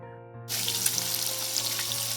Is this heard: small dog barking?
no